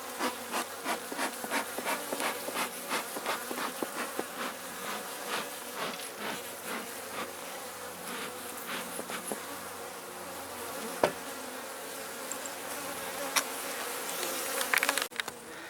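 Honey bees buzz around an opened beehive during an inspection of a struggling colony, a dense continuous drone close by, with scattered scraping and rubbing sounds of hive frames throughout.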